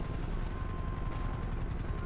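A helicopter in the GTA 5 video game flies with a continuous rotor whir and engine drone, steady and fairly close, with no talk over it.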